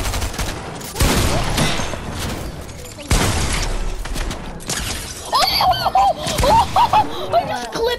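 Loud, sharp shotgun blasts from the Fortnite video game, two heavy bangs a couple of seconds apart amid in-game clatter and effects, followed by a player shouting excitedly over the game sound.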